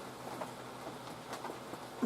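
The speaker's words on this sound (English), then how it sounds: "rain on a tin roof. It is, it's coming down pretty good out there." Steady rain drums on a tin roof on a morning of heavy downpour, a continuous soft patter with scattered brighter drops, fairly faint and even throughout with no one talking.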